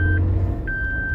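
A 2023 Maruti Suzuki Jimny Alfa driven in four-wheel-drive high range gives a steady, close engine and road rumble, with a thin continuous beeping tone running over it.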